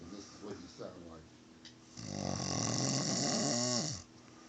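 A man, a longtime smoker, snores in loud, rasping breaths with a long rattling inhale that swells and then fades, heard up close after a stretch of quieter breathing and faint background sounds.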